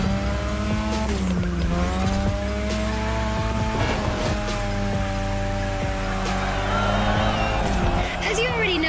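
A car drifting around a drift track in the racing game The Crew Motorfest, engine droning steadily while tires squeal and skid in long wavering howls, loud and close, with a voice talking over it.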